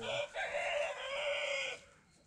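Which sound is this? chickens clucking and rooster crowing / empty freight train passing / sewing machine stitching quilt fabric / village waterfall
chickens clucking and rooster crowing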